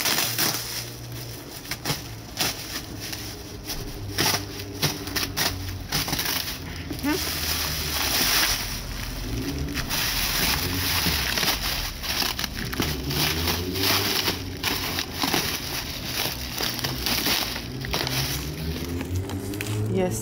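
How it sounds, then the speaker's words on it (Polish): Black protective plastic foil torn and peeled off a plant delivery from Bulgaria, giving continuous crinkling, crackling and rustling up close, with a person talking over much of the unwrapping. "bierzemy się za rozpakowywanie. Jak widzicie, czarną folią zabezpieczone."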